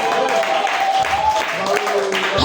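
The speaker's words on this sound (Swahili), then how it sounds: "Pigia Yesu makofi." A church congregation at a pastors' seminar claps and cheers, a loud mixed wash of hands and voices, with singing or calling voices running through the clapping.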